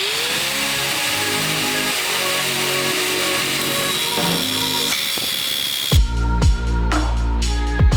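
A power saw cuts through an intercooler pipe for a turbocharged Chevy Cruze, a steady high-pitched whine grinding on for several seconds before a few sharp bursts and clunks as the cut finishes.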